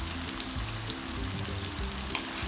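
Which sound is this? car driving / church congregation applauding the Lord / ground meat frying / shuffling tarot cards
ground meat frying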